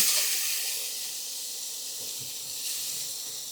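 Onion sizzles in butter with whole spices such as cardamom, cloves, cinnamon and crushed pepper, a continuous bright hiss that starts loud and settles into a steady frying crackle.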